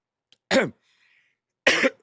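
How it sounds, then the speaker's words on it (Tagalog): Two separate coughs, close and fairly loud, spaced about a second apart with quiet in between. "Pasensya na sa paubo-ubo natin."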